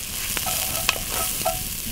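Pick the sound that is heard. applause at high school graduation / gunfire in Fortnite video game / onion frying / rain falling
onion frying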